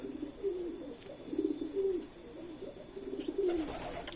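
Pigeons kept for racing training coo nearby in soft, repeated throaty phrases, roughly four or five rolling calls spaced about a second apart over a faint steady background hum.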